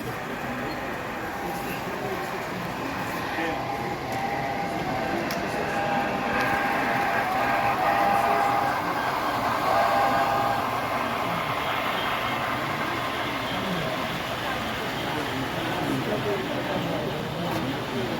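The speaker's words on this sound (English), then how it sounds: "Adios, train." A model train runs along a club layout during an operating session, a steady rumble with a faint whistle-like tone in the middle, while people talk over it.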